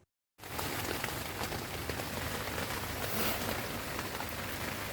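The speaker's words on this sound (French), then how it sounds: "on s'est fait surprendre par la pluie alors qu'on montait les tentes" Steady rain pours onto a campsite while tents are being pitched, a dense, continuous hiss of drops on surfaces that starts abruptly after a brief silence and holds at an even, fairly loud level throughout.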